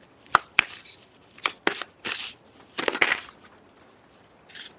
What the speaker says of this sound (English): After all that shuffling, we get the same two cards from the previous reading.